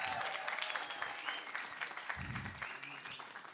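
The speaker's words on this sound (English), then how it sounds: "Give yourselves a round of applause." A comedy showcase audience breaks into steady, dense applause that holds for the whole stretch at moderate distance, with a brief murmur of voices rising partway through.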